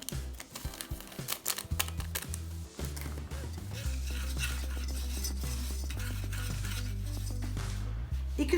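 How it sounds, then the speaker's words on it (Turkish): Dry ingredients with lavender and vanilla stirred together in a bowl while preparing a lavender dessert: steady scraping and rustling under continuous background music, with no talking. "Bunu şöyle bir güzel kuru malzemeleri karıştıralım"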